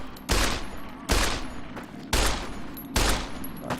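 Four loud, evenly spaced gunshot bursts from the Fallout: New Vegas video game, each a sharp crack with a ringing tail, fired close and alone without talk.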